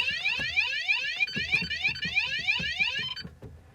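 An Optima G3 alarm system, triggered by its motion detector, sounds a loud, close electronic siren of rapidly rising sweeps repeating for several seconds before cutting off.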